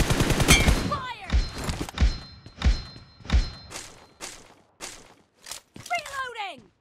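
Repeated gunfire in the mobile battle-royale game PUBG Mobile: a series of sharp, loud shots roughly every two-thirds of a second, each with a short ringing tail, ending in a final burst with rising tonal effects.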